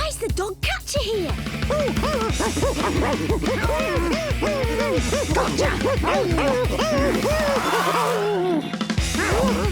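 Cartoon dog barking in an animated Dennis and Gnasher episode, a run of repeated loud yips and barks layered over busy music and effects throughout.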